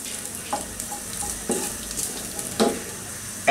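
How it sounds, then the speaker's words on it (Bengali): Finely chopped ginger fries in hot oil, hissing steadily up close while a spoon taps and scrapes the pan a few times, the last knock loudest at the very end. "1 চা চামচ কুচি কুচি করে কাটা আদা দিয়ে দিব। দিয়ে একটু ভেজে নিই 10-15 সেকেন্ড।"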